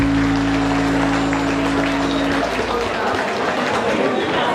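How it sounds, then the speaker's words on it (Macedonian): Applause from a concert audience in Bitola marks a band's 30th-anniversary show. A dense wash of clapping continues throughout, with sustained musical tones underneath for the first half, and talk appears to run over it. "Еден аплауз за убавината."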